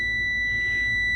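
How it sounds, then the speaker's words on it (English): A truck's low air pressure warning buzzer sounds in the cab during an air brake check, a steady, piercing electronic tone held continuously over a low engine rumble. "There's our low air warning."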